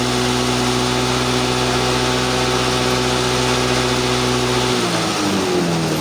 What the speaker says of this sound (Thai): ประมาณนี้ครับเวลาเร่งเครื่อง